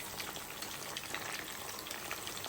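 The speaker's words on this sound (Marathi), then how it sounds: "आता इकडं मासे फ्राय होऊ लागले" Fish frying in a pan, a faint continuous sizzle and crackle with a few small pops, quiet and steady throughout with no talking.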